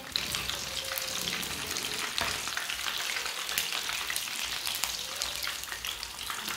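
Chicken leg pieces fry in hot oil with a steady, dense sizzle and crackle that holds close and fairly loud throughout, with no voices.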